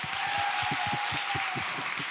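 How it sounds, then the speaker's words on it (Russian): Applause at the closing ceremony of a national student graduation event, a continuous even crowd clapping heard under loud rhythmic thumping music with a steady beat. "Эти аплодисменты вам."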